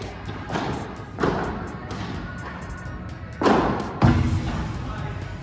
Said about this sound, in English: Big smash there from MK Padel.